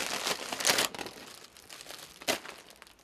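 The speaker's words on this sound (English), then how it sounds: "Properly close the two inner plastic bags before closing the outer protective" Plastic storage bags for dried maize are handled and closed, crisp crinkling and rustling bursts up close, loudest early on, then quieter crumpling with a final sharp crinkle.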